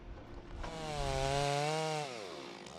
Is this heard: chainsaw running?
yes